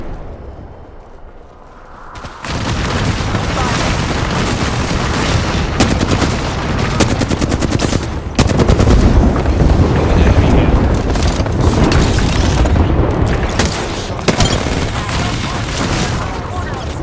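Gunfire in the video game Apex Legends: dense, loud bursts of automatic weapon fire and booms that run almost continuously after a quieter opening, with sharp shots cutting through.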